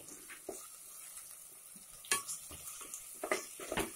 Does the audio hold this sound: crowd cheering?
no